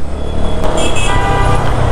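Motorized rickshaw-vans rumble loudly close by on a town road, engine drone mixed with traffic and a couple of short horn toots.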